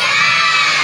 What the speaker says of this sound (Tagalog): Lahat ng ready, lahat ng masaya, sumigaw ng Jesus!